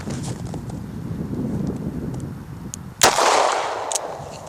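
A Ruger revolver firing a .38 round at an outdoor range, one loud sharp report near the end followed by a brief ringing decay, with wind noise rushing over the microphone before it.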